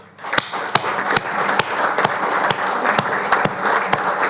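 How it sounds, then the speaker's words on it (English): A crowd at a company annual shareholder meeting applauds steadily, with sharp louder claps cutting through the dense sustained clapping at a regular pace. "please join me in a round of applause for Steve"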